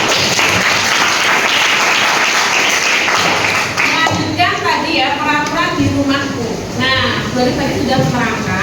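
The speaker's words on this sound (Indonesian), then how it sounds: "Tepuk tangan buat kita." A school class of students bursts into loud, sustained clapping and cheering, a dense burst of applause with voices shouting over it, tapering slightly toward the end.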